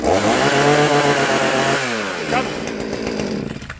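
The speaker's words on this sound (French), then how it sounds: "J'ai racheté une tronçonneuse pour rien." A chainsaw roars at high revs, then winds down and idles with sputtering as the engine slows near the end.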